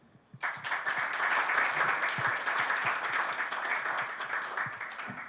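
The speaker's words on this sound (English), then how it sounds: "show your endorsement of those 3 positions with a big round of applause" A room of people at a community association AGM breaks into a big round of applause, dense steady clapping that starts abruptly and holds loud and even throughout.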